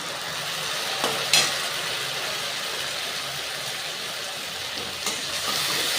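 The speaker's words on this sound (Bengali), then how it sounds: "ভালো করে কষবে লঙ্কা পেঁয়াজের সঙ্গে।" Chillies cooking with browned fried onions in a pan for kaju chicken, a steady broadband sizzle throughout with a couple of brief scraping stirs, alone and fairly close.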